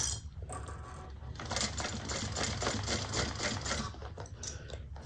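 A sewing machine runs a fast, steady back stitch through bag fabric, a continuous close mechanical rattle lasting several seconds with no talking.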